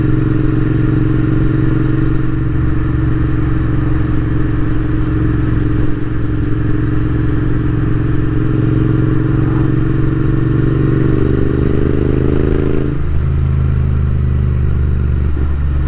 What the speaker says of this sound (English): This one's got aftermarket Vance & Hines pipes, so it's a little bit louder than stock.